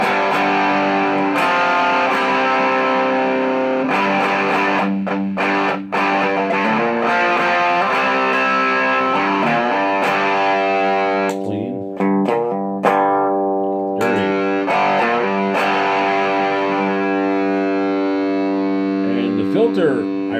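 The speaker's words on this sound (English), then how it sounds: "we'll start out with the distortion at about a quarter" A distorted electric guitar through a Pro Co Rat distortion pedal set at about a quarter holds thick sustained chords and notes, heavily overdriven, changing a few times and ringing out without any talking.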